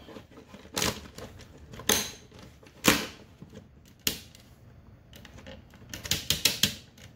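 Crisp, solid ratchet clicks from the jointed Tobot Great Admiral transforming robot toy, in scattered single snaps and then a quick run of clicks near the end, close and alone.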